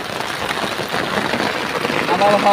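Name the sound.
heavy rain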